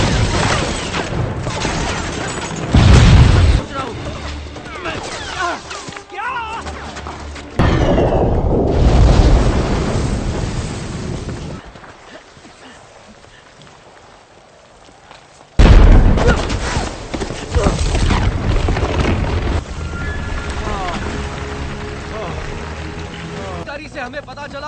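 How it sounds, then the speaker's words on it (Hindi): Loud bursts of gunfire and explosions from a dubbed Hollywood action movie come in heavy booming waves with a quieter stretch between them, mixed with shouting dialogue. "हम पर गोलियां चल रही हैं।"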